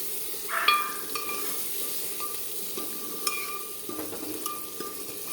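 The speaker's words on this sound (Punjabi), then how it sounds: "ਦੇਖੋ ਆਪਣੇ ਪਿਆਜ਼ ਭੁੰਨ ਹੋ ਰਹੇ ਚੰਗੀ ਤਰ੍ਹਾਂ ਨਾਲ" Onions with salt sizzle steadily in a pan for a dish of potatoes and spinach, a soft continuous frying hiss with a few light clinks of a stirring spoon against the pan.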